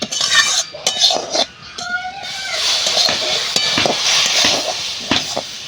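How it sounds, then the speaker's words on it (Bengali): Semolina cooking with milk for halwa, stirred in a pan: close scraping spoon strokes and bright metallic clinks against the pan over a soft steady hiss, with no voices. "এবার একটু একটু দুধ দিয়ে সুজিটা রান্না করে নিচ্ছি"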